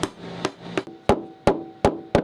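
Mallet blows driving a chisel into wood, cutting out the middle of a backing plate for a Hydrovane wind-vane self-steering unit on a boat: seven sharp, evenly spaced knocks, close and crisp, with no talk.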